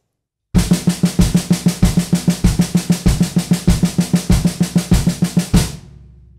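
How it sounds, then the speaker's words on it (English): A drummer plays a single-stroke rudiment in steady sixteenth notes on a snare with a bass drum thumping every four notes, a fast, even, loud stream of hits lasting about five seconds before stopping. "So single strokes sound like this."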